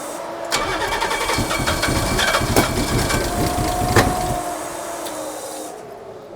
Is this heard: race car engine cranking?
yes